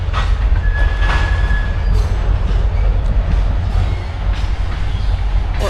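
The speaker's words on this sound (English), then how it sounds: "There goes the train." A train passes on railroad tracks near a hiking trail at a national battlefield, a loud continuous rumble of wheels and cars with a brief squeal, steady throughout and close by.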